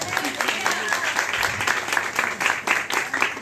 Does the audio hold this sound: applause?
yes